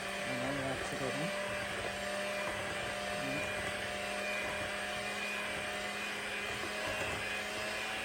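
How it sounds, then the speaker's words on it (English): An electric hand mixer beats eggs in a bowl for a Caribbean black cake, a steady whirring drone running the whole time with faint kitchen clatter and brief talk early on. "I have to use a hand mixer. So we're gonna mix our eggs and all that together."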